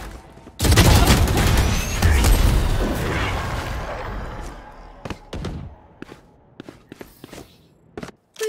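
A grenade goes off in a PC shooter game: a loud close boom at the start with a long rumbling decay, followed by scattered sharp impacts and clicks as the noise dies down.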